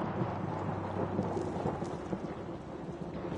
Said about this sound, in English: Getting scared by lightning.